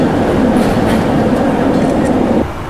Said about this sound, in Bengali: পৌঁছে গেলাম KL সেন্ট্রাল, এবার আমি ধরবো কমিউটার ট্রেন।